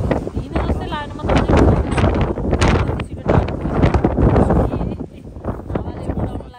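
Strong wind at the Wedding Cake Rock lookout in Australia buffets the microphone in a loud, continuous, gusting roar, with a voice partly audible beneath it.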